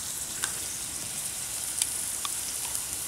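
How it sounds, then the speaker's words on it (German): Vegetables with cranberries sweating in a roasting pan on a charcoal grill give a steady, close, bright sizzle with occasional small pops and spatters. "Die werden wir jetzt schnell anschwitzen da in dieser Bratreiner"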